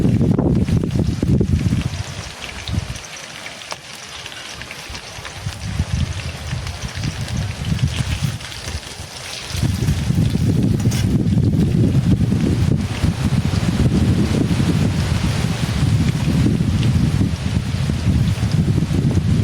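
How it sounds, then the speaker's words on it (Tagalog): Strong wind roars and buffets the microphone in heavy gusts at a limestone cave campsite. It eases for several seconds midway, then surges back loud and steady. "Talaga ng hangin. Grabe."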